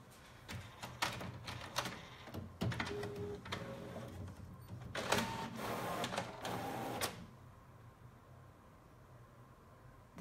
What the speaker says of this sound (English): And then I'm gonna hit print.